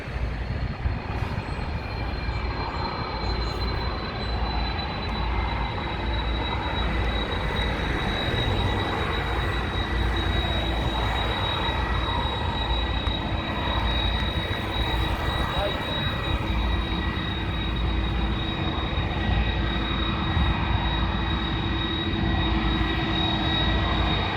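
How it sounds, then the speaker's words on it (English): Alitalia Airbus A330 jet airliner at London Heathrow, a steady distant turbine whine and broadband roar holding evenly throughout with a thin high tone, no speech over it. "I do love an Airbus A330."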